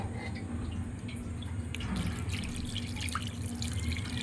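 Water is poured over chhana (cottage cheese) curdled with vinegar to rinse it, a faint steady trickle and splash with a few drips, low in level and without speech.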